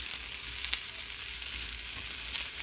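Grated coconut roasts in a pan over low heat with a soft, continuous close sizzle and a few faint stirring scrapes, no talking.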